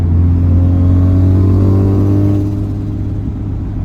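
A car fitted with a Racing Beat Power Pulse dual-tip exhaust pulls hard with a deep, loud exhaust drone that rises in pitch, then eases off into a lower rumble.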